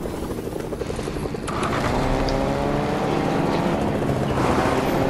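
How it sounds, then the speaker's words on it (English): Helicopter in the video game Fortnite, a low throbbing rotor drone that swells louder partway through and stays steady, with no talk over it. "that helicopter was too late"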